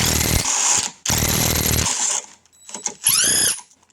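A SCANS 20V brushless impact driver backs out a bolt stuck in a vise, with two loud close bursts of rattling impact hammering separated by a brief gap, followed by lighter clicks and a short whirring spin-down.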